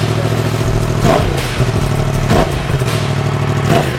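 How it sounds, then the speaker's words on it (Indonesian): A Yamaha R1M with a crossplane engine and stock exhaust revs loudly and up close, its steady throaty drone swelling in three sharp throttle blips roughly a second apart. "Jadi suara crossplane itu memang khas. Jadi di RPM di bawah dia memang kencang suaranya."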